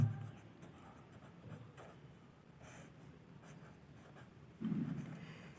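Pen or pencil scratching a number onto paper during a class 8 math lesson on simultaneous equations, a soft close scribbling texture with a louder stroke near the end, no talking.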